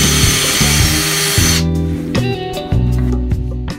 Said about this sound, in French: tu es en train de visser dans l'isolation